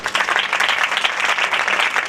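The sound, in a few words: congregation applauding in church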